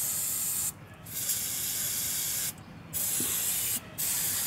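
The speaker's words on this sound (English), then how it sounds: "Clean the shims. Spray them off like that." Brake cleaner sprayed onto front brake pad shims of a 2001-2007 Toyota Highlander during a brake job, a steady loud aerosol hiss broken by three short pauses between bursts.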